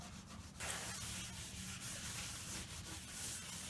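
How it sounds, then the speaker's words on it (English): Steady back-and-forth rubbing of a paper towel soaked in lacquer thinner on a wood surface to remove glue, a soft papery scrubbing that continues evenly, quiet and close. "just getting some lacquer thinner on a paper towel, scrubbing it works pretty good"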